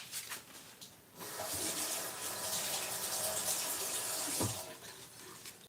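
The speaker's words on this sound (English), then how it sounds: "And then I'm going to wash my hands." Running tap water splashes steadily into a kitchen sink as hands are washed, a continuous close rush of water with a brief clatter near the end.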